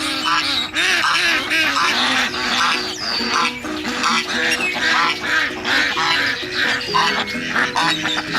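A flock of real ducks quacking and squawking continuously, dense and loud with overlapping calls throughout.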